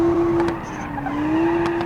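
A Zangzgeg Yankee Turbo drifts with a sustained, fairly steady tire squeal that wavers slightly in pitch over a continuous engine and road roar, heard up close.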